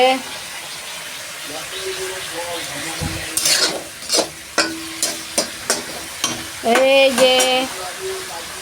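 Turmeric-spiced curry sizzles steadily in a pan while a spoon scrapes and stirs it in a run of close, rhythmic clacks, with a voice and some tonal sound in the background.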